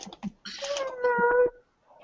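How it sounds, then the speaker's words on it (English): A cat meows in one drawn-out, rising and falling call close by, preceded by a few short soft sounds and followed by a brief faint trailing murmur. "Here's a cute kitty."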